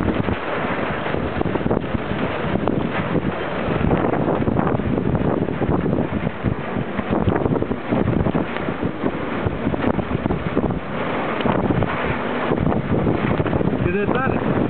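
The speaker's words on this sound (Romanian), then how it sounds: "Gata, a început furtuna." Strong gusty wind of a summer storm buffets the microphone in loud continuous roaring rushes, with a voice faintly present beneath.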